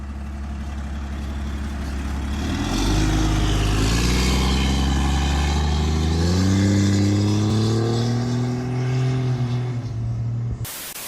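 A modified truck's engine revs up and accelerates, loud and close, with a deep pitch climbing steadily for several seconds before the sound cuts off abruptly; no one speaks.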